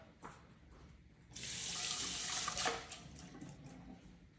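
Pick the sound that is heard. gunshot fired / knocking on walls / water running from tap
water running from tap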